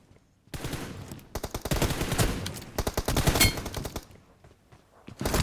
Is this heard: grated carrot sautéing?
no